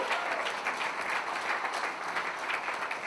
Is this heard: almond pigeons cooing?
no